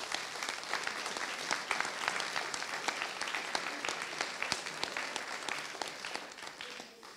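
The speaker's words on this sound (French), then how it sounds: "vous pouvez encore vous applaudir," A crowd applauds continuously, dense clapping at steady volume throughout, tapering slightly at the end.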